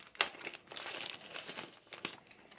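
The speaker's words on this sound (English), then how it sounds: "We got a little pouch here and another plastic bag." A plastic bag crinkles and rustles in short, close bursts as a Kizer Coywolf pocket knife is unboxed, with sharp crackles spread over a couple of seconds and no speech.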